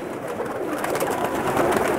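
Pakistani pigeons cooing close by, soft repeated throaty coos overlapping in a short burst.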